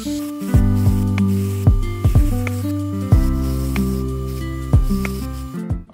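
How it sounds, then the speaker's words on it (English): A 2x72 belt grinder takes material off a sushi knife blade's profile, giving a loud, steady mechanical drone with pitch dips and scraping surges each time the steel is pressed against the belt. "So I'm gonna go back to the 2x72 grinder. I'm just gonna rip off that material really quick"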